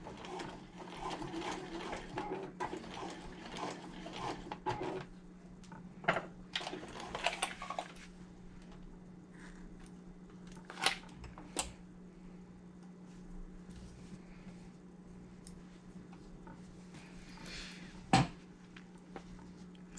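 Sewing machine stitching the interior pockets of a zippered wallet, running over the zipper teeth: a steady mechanical whir in several bursts with short pauses and a few clicks, close and alone with no talking.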